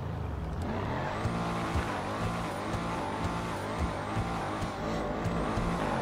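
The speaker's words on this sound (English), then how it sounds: "you can hear that engine purr" Armored high-end sports car's V12 engine in a video game, revving steadily with a rising and falling roar over tire noise and a faint squeal, loud and continuous throughout with no talking.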